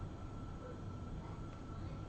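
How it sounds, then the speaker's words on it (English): Trains in the video game Factorio, a steady, loud rumbling rail hum with engine drone that carries evenly throughout without any voices. "Here are some trains"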